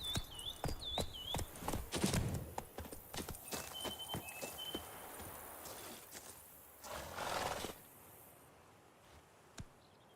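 Hoofbeats from Geralt's horse Roach in The Witcher 3: Wild Hunt – Blood and Wine, a run of clip-clop steps over the first few seconds, then a softer stretch with scattered thuds and ambient game sound.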